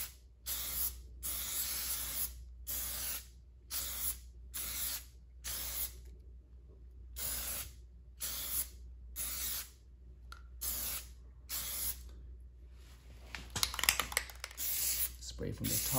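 Aerosol can spraying black paint onto a car's H emblem in short repeated hissing bursts separated by brief pauses, ending with a rattly, longer spray.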